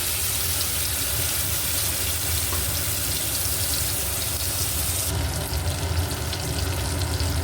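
Ground raw banana peel paste goes into a pan of hot oil tempered with chilli and nigella seeds, giving a loud, steady, close sizzle and crackle that continues unbroken with no talking.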